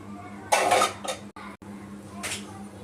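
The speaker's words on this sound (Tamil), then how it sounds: "இப்போ பெரட்டி போட்டாச்சு" An egg dosa gets flipped on a hot pan with a spatula, bringing a couple of short metallic scrapes and clatters over faint background sizzle. The sound is close and brief.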